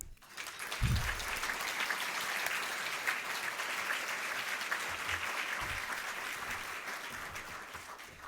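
Luncheon audience at a children's center event breaks into steady, sustained applause, a broad dense clatter of many hands that holds evenly from start to finish in a large room.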